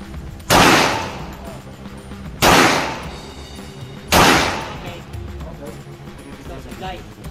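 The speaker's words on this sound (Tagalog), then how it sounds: "Maririnig lang natin yung tunog ng baril." Three loud, sharp gunshots ring out about two seconds apart, each a sudden broadband bang trailing into a brief echo, tested against a Filipino amulet called Stampita, with a low background murmur between shots.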